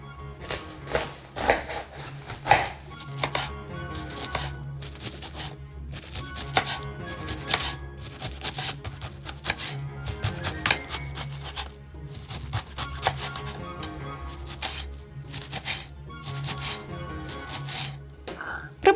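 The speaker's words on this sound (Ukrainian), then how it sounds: "І в першу чергу капусту треба подрібнити." A knife chops through cabbage on a board in quick, uneven bursts of sharp cuts with brief pauses between, close and clear, with no talk.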